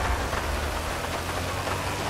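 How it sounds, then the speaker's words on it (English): Steady hiss of heavy rain falling in GTA 5, dense and even throughout with a low rumble beneath, and no talking. "Man, I can't believe it's raining like that."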